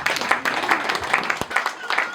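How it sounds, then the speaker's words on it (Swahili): A congregation claps at a church's 15th anniversary celebration: steady rhythmic hand clapping from a crowd, with a voice talking over it. "Shangilieni na makofi."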